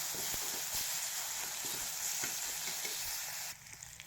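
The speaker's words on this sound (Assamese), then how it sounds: "এইখিনি অলপ দেৰি ভাজি লওঁ" Constant crackling sizzle of spices with turmeric frying in a pan, with soft stirring scrapes, dropping quieter near the end; no talking.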